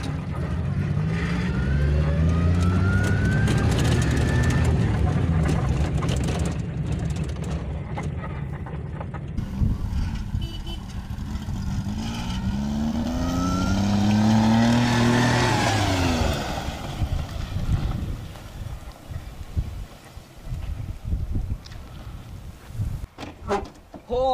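A car driven hard in reverse gear, its mid-pitched engine revving up and down loudly in several pulls, with a brief voice near the end.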